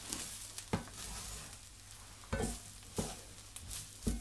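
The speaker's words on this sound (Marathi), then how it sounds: "आता हे पूर्ण कमी गॅस करून भाजून घ्यायचं।" Malvani masala paste roasting on low heat in a pan, a soft steady sizzle broken by a few distinct scraping stirs, quiet and close.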